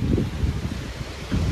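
Strong wind gusting across a seaside resort in Sariaya, Quezon, a steady low roaring rush of air buffeting the microphone, swelling at the start and end of the moment.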